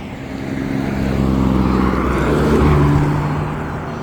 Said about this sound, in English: It's like M6, best sounding V10 out of a BMW.